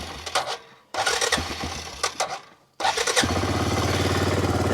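A Suzuki Eiger 400 ATV engine cranks in two short bursts with pauses, then catches and fires on the third try, settling into a steady, loud, close putter of running engine.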